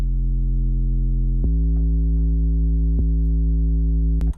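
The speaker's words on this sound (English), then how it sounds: "go back to the sine wave and add distortion to it" A low, buzzy distorted sine bass holds a steady note, with a couple of brief clicks where it retriggers before cutting off.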